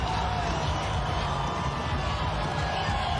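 Large, packed home crowd at Go Media Stadium for a New Zealand Warriors vs Cronulla Sharks rugby league match, producing a dense, continuous roar of cheering with commentary voices over it.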